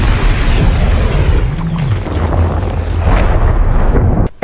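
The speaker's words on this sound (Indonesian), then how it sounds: "Mayor Session pun melepaskan tembakan full charge gabungan dari beberapa senjata tadi." A heavy, sustained explosive blast from a combined full-charge weapon shot in the sci-fi film Spectral, loud and rumbling throughout with deep low-end roar and crackling debris, ending abruptly.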